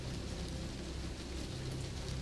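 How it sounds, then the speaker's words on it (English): Steady rain streams down window glass during a storm at a lighthouse on Lake Michigan, a constant soft, close hiss without pauses. "Rain streams down the glass,"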